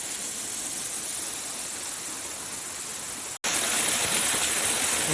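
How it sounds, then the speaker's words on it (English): Up close beneath a waterfall near Bogota, Colombia, water pours in a loud, unbroken hiss and rush, briefly cutting out and returning even louder. "The water is literally coming down on me."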